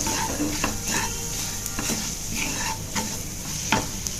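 A spoon stirs a spice and ginger mixture in a pan for baingan bharta, scraping in a repeated rhythm over a soft, steady sizzle, close and unaccompanied by talk.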